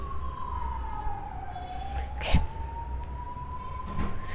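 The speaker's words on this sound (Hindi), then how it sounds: "कोई एम्बुलेंस जा रही है" Ambulance siren passing by outside: a single wailing tone sweeps down and then back up at moderate distance over steady background traffic noise, with a brief thump partway through.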